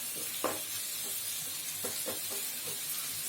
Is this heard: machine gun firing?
no